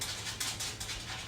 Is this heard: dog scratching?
yes